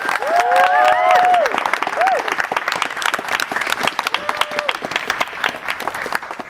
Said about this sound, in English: Please can we have a round of applause for our live panel guests?